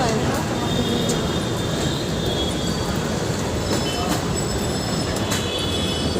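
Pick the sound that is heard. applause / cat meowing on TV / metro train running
metro train running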